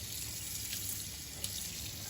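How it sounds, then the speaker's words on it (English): Cool tap water runs steadily and softly over cured bacon in a sink, a faint broadband splash with no speech. "So we're just gonna rinse this off with some cool water."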